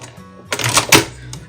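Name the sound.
sewing machine back stitching through layers of fabric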